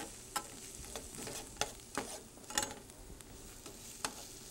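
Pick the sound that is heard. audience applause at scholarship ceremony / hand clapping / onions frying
onions frying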